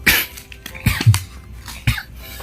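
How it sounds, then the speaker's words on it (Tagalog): A few sharp, loud coughs close by, spaced out over a couple of seconds, with a low background hum and no talking. "Okay, medyo umubo ako ha."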